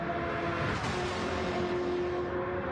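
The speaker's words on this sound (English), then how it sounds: "These Camaros sound amazing. They are the best sounding car out here." Chevrolet Camaro race cars in a GT racing video game at Daytona, a dense, continuous engine roar with a steady droning tone, loud and close throughout.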